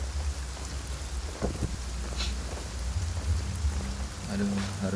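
Rain in the Genshin Impact video game: a continuous hiss of falling drops with a low rumbling underlayer and a few brief tapping accents, steady throughout.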